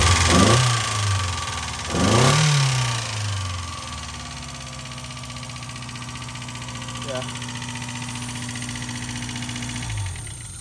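An abandoned Mazda Miata engine is blipped twice in quick succession, each rev rising and falling, then it settles into a steady idle, close and loud.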